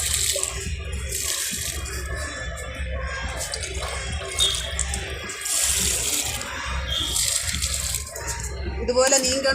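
Water poured from a container onto garden plants, the water having had aloe vera soaked in it; a steady splashing trickle runs close by under a persistent background hum.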